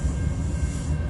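A CN 271 southbound freight train rolls past in Port Huron, Michigan, giving a steady, loud, low rumble of rail cars throughout a brief moment, with no voices.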